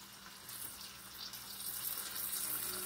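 Bacon frying in a pan makes a continuous, close hissing sizzle that swells slightly over a few seconds, with no talking.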